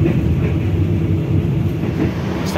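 Jaka Tingkir economy New Generation passenger train rolling on its rails, a close, loud and continuous low rumble of the carriage with a faint rattling texture and no voices.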